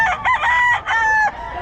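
A rooster crows loudly and close, two or three rising harmonic calls in quick succession at a poultry seller's place.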